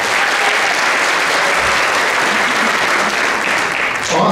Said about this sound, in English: please give a special round of applause to Niles Township District 219 Supervisor